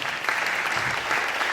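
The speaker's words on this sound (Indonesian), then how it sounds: "tepuk tangan buat Tuhan Yesus." A church congregation at an Indonesian Christmas service claps together, a steady, dense wash of applause filling the room throughout.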